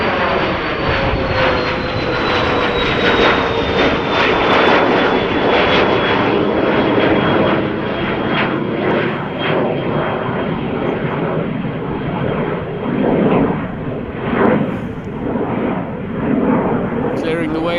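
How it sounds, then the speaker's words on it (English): An Embraer Phenom business jet at Amsterdam Schiphol Airport passes loud and close, its steady engine roar holding with a slowly falling whine across the whole span, and a voice talks over it at times. "Beautiful Embraer Phenom."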